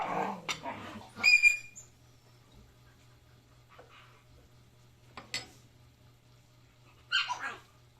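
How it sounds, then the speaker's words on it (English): Several short dog barks ring out at intervals on a farm, with quiet gaps between them, a couple of yips among them, against a low steady hum. "Sorry, my dogs are so noisy."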